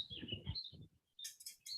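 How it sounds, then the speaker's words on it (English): Birds chirp outdoors, with bright high tweets scattered through the clip, moderately near, partly under low murmuring voices at the start. "So Teresa, it sounds like the birds may want to add some discussion."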